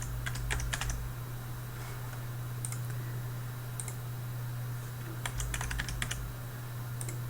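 Fingers type on a computer keyboard in irregular bursts of close, crisp key clicks over a steady low electrical hum, with no talking.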